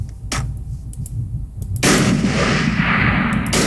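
A 20mm cannon fires in a modded video game, several sharp, loud booming shots with a heavy blast that rings on, growing louder and denser in the second half.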